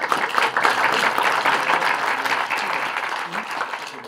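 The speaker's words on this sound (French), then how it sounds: "je vous demande d'applaudir bien fort" Audience applause at a French talk introducing a speaker on fonts, dense and loud hand-clapping from a seated crowd that holds steady for several seconds, with faint voices underneath.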